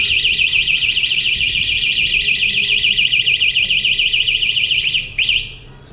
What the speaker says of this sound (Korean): 바이크 도난 방지를 위해서 충격이 있으면 사이렌을 울리게 해주고요